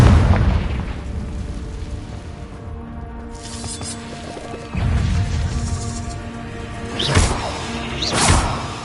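Spell blasts of the Confringo fire charm in Hogwarts Legacy on PlayStation 4 Pro land as booming explosions with whooshing bursts, several loud impacts spread across the stretch with game ambience between them.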